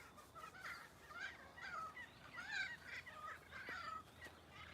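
Wild birds around a pony paddock mimic the calls of cockatoos and kookaburras, a faint, continuous chatter of cackling and screeching phrases heard at a distance with no talking.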